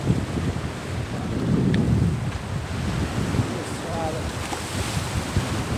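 Sea waves crash and splash against a pier on the Bicol coast. The surf is a loud, steady roar with windy rumbling throughout.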